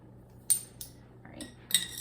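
A metal tablespoon clinking against dishes while granola ingredients are measured, three or four brief bright chinks spaced out over quiet kitchen background.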